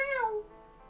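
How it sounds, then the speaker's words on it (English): A single cat meows once from a hallway, a short, clear, descending call that is close and fairly loud, then fades to quiet. "He's just like meowing down the hallway."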